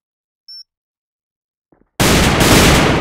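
Gunfire in the first-person shooter AVA during a competitive esports match: a sudden, loud, dense burst of rapid shots erupts after near-silence with a brief beep, and it continues steadily to the end.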